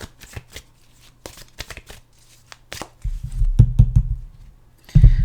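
Tarot-style reading cards are shuffled by hand. First come a series of quick, light taps and flicks, then a longer riffling rustle and a final short burst, all close and fairly quiet, with no talking.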